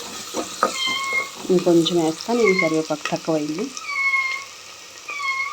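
A small child cries for milk in a home kitchen, loud rising and falling wails in several bursts over steady frying sizzle, with someone talking nearby.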